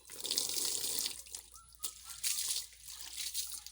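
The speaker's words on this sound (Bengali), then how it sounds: "তো এবার জল দিয়ে ধুবো।" Water splashes steadily over plastic chairs as they are rinsed after scrubbing, a close, continuous running and spattering sound with brief lulls.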